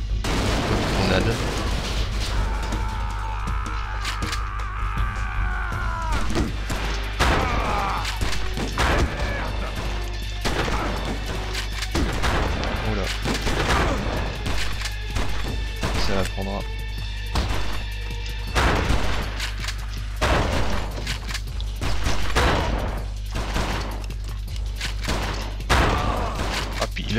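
Grenade blasts and gunfire ring out in the first-person shooter XIII, with repeated sharp shots and crashing impacts over a constant low rumble, while someone talks throughout.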